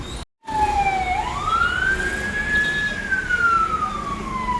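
A fire engine siren wails in a single long rising and falling sweep, loud and fairly close, over background street noise in Vietnam.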